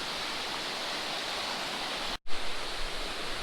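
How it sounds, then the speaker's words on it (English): Fast-moving rapids on the Kern River, a dense, steady roar of rushing water heard close, briefly broken by a short dropout. "Look at those rapids right there. Tell you what, I've seen some kayakers go by here in the past couple of trips, and that water is really moving."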